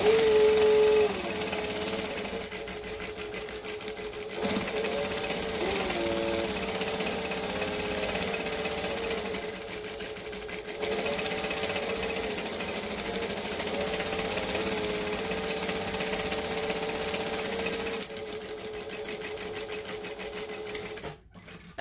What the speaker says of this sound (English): now I'm going to top stitch again with my 1/8 of an inch.